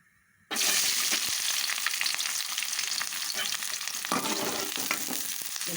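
Onions frying in hot oil in a pan for a fish curry, a loud, steady sizzle that bursts in suddenly after a quiet start and crackles continuously up close, with no talking.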